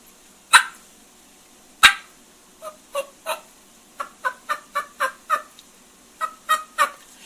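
A person imitates a wild turkey hen's fly-down cackle: two sharp loud clicks, then an accelerating, irregular run of short clucking notes, close and alone.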